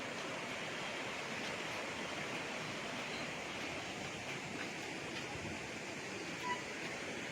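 A clean river in Majayjay, Laguna, flowing steadily with a continuous, fairly loud rush of water that holds evenly from start to finish, with no voices over it.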